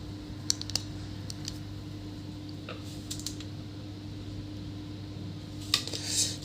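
Keys on a Lenovo IdeaPad 320 laptop keyboard are pressed one at a time as a test, giving a few sparse, faint clicks spread over a steady low hum, with a slightly louder cluster near the end.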